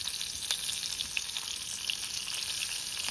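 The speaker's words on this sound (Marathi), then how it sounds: "चला, आपले कोळंबी जातात आता, पुढे मारतात तेलात." Large prawns frying in hot oil give a steady, bright sizzle with small crackling pops throughout, close and continuous, no voices.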